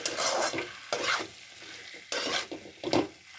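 Fried potatoes are stirred in a pan, with a spatula scraping in several distinct strokes over a soft sizzle, close and moderately loud.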